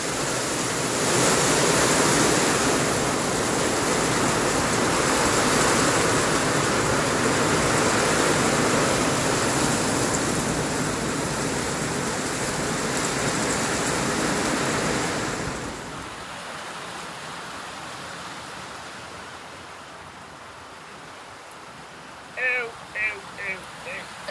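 A dense, steady roar of hail pounding down on a stable area for about sixteen seconds, then it drops away to quiet with a few faint bursts of voices near the end.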